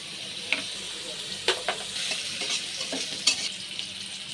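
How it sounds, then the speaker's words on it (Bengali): Chopped onions and sliced chilies fry in oil in a wok, giving a steady sizzle broken by several sharp spoon clacks and stirring scrapes spread unevenly through the stretch. "প্রথমে আমি একটি কড়াইয়ে পরিমাণ মতো তেল, পেঁয়াজ কুচি এবং মরিচ ফালি করে দিয়ে পেঁয়াজটাকে একটু নরম হয়ে আসা পর্যন্ত একটু রান্না করে ভেজে নেব"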